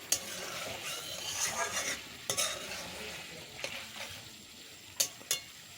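Papaya and potato frying with onion and garlic in a pan, a soft steady sizzle with spatula stirring scrapes and occasional sharp knocks against the pan, close and without talk.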